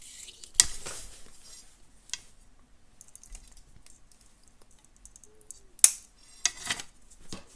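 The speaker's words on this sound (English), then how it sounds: "I'm going to cut myself a piece that's 22 inches long." Scissors snipping beading wire for a necklace, two or three crisp metallic cuts separated by quiet handling noises, close and fairly soft with no talking.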